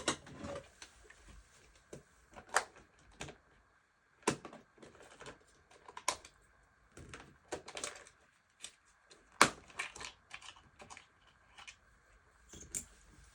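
A flathead screwdriver prying the plastic back panel off a Dell P2419H monitor gives sharp, irregular clicks and snaps with short scraping bursts, scattered unevenly and close by.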